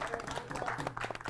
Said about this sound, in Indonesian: Tepuk tangan buat Indra loh.